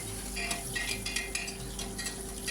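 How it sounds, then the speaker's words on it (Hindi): Soybean chunks stirred in hot oil in a kadhai, with a steady sizzle under repeated scraping and clinking of a spoon against the pan, close and moderately loud. "अब उसमें मैं सोयाबीन की बरी डाल दूँगी, सारी एक साथ ही डाल दूँगी"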